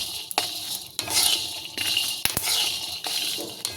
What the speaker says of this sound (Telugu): ఇవన్నీ వేసుకొని ఫ్రై చేసుకుందాం అండి